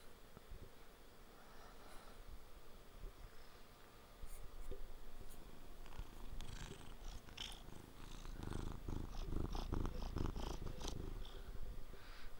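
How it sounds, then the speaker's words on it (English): A cat purrs softly and continuously up close, a steady low rumble with faint scratching of drawing on paper mixed in. "That's my kitty cat talking."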